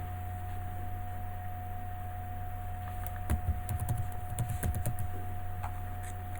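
Someone types quickly on a computer keyboard for about two seconds, a cluster of close, light key clicks over a steady electrical hum and hiss.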